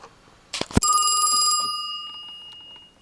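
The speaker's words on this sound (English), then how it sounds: "let's go ahead and give it a ring" Western Electric 2554B rotary desk telephone with its bell ringing: one loud, sustained metallic ring lasting about a second after a couple of clicks, then fading out alone.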